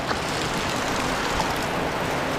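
Heavy rain pours steadily outside a small hut, a dense, constant broadband wash with no breaks, water also running in where a drain is clogged.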